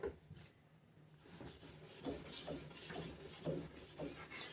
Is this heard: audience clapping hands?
no